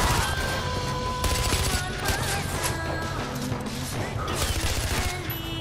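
Dense, loud gunfire from the Far Cry 4 video game, with rapid bursts and crashes layered over continuous combat noise for several seconds, while voices talk faintly underneath.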